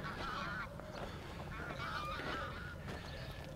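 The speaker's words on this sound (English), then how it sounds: "Bloody geese." Several geese honk repeatedly in overlapping calls, moderately loud against a continuous outdoor rumble.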